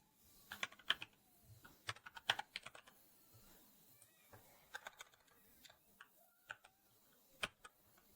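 Computer keyboard typing in bursts of light, uneven clicks and taps, close and fairly quiet, with brief pauses between runs of keystrokes and no talking.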